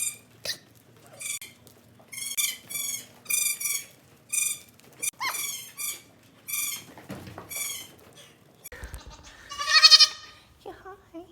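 Baby goats bleat in repeated short, high cries, several calls in quick succession and one loud close call near the end, while a person's voice and farmyard bustle come and go around them.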